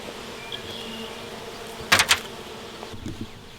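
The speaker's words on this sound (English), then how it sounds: "Over here you can see that the bees are kind of away from the front now." Honey bees buzzing around a beehive, a faint steady hum in the background with a few brief louder buzzes as bees pass close, no speech.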